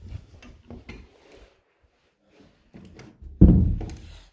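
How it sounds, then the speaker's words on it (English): A house front door is opened and closed during a move-in inspection: scattered soft knocks and handling clicks, then a single loud close, heard near with no talking. "So the door open and closes fine"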